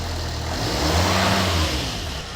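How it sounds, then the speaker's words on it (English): A car engine with a black-smoke fault, now smoking less, revs up and settles back, loud and close with a steady mid-pitched roar and no talk. "We'll give it a rev and I'll show you there's no more smoke coming out."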